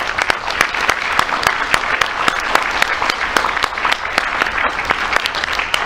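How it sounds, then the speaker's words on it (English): A conference meeting audience gives a round of applause: dense, steady clapping from many hands that fills the whole stretch. "I think we should give them a round of applause."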